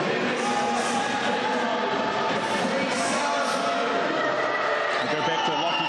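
Basketball arena crowd in Cowles reacting loudly and steadily after a missed free throw, a dense sustained roar of many voices with scattered shouts, heard close and continuous throughout.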